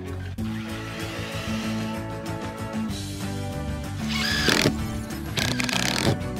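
A large-bladed power saw cutting wood while building concrete side tables, a steady loud motor whine with harmonic drone that grows harsher and louder midway as the blade bites in.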